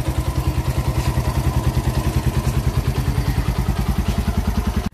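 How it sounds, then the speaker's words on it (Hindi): A motorcycle engine that had been sitting unused for a long time runs close by in a steady, even chug of rapid pulses, alone with no voices. "बाइक हमारी बाहर आ चुकी है और ये कर लेते हैं इसको स्टार्ट।"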